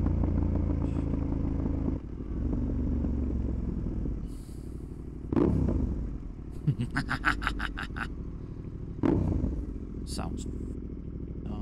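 A KTM 1290 Super Adventure S motorcycle with a Wings exhaust is ridden off-road, its engine rumbling and surging in bursts beneath a rider talking over the wind and clatter.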